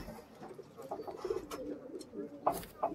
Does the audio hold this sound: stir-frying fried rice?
no